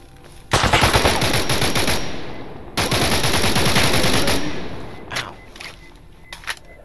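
Loud bursts of automatic gunfire in the S.T.A.L.K.E.R. Anomaly game, two long sustained volleys separated by a brief pause, followed by a few scattered single shots fading out.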